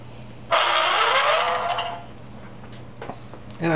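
A Star Wars lightsaber sound board with an FX pack powers up, giving a loud sweeping ignition burst that settles into a steady hum, followed by a few faint clicks and a fresh surge near the end.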